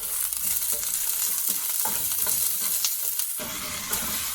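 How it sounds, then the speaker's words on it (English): Onion sautés in oil in a pan with a steady, close sizzle and occasional stirring scrapes throughout, with no talking. "we got the onion all sauteed up"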